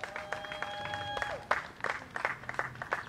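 At a wedding ceremony the audience claps in scattered, soft bursts. The applause sits fairly far back, and a faint sustained musical tone lingers at the start.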